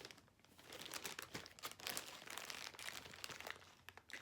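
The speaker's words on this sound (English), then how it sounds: "So pardon the crinkling. I have them in a Ziploc bag to keep them from getting wet." A Ziploc plastic bag holding overdyed embroidery threads crinkles and crackles continuously up close, with dense irregular rustling bursts and no talking.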